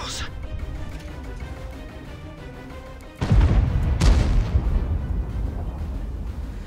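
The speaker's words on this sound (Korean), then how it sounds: "아 포탑 터졌어" A tank turret blowing up in World of Tanks, a sudden heavy explosion about three seconds in followed by a second punch and a lingering rumble, with someone talking over the battle noise.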